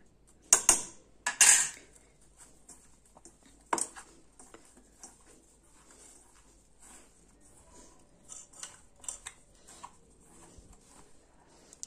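Kofta mixture seasoned with salt and red chili powder is mixed by hand in a bowl, with a few sharp clinks of utensils against the dish early on, then quiet intermittent ticks and soft scrapes.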